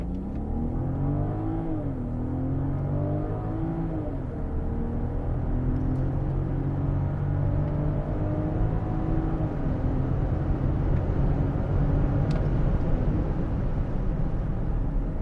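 A 2022 Land Rover Range Rover P400 accelerating hard on a road closed to public traffic, its engine note rising and sweeping through gears in a loud, continuous drone with no voices.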